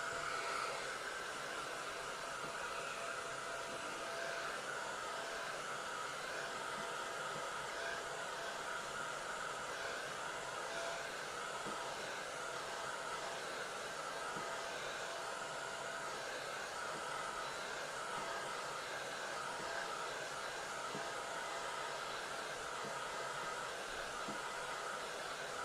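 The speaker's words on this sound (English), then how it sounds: "I'm going to use my hair dryer." A hair dryer drones steadily and continuously as it blows a watercolor winter landscape painted with inexpensive pan paints on 140 lb cold-press paper, a constant near whooshing roar with no speech.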